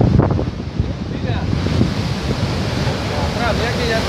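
Rough Atlantic surf pounds the shore at Tenerife during storm Emma in 2018, a constant loud roar of crashing waves mixed with heavy wind buffeting the microphone, with people talking faintly underneath.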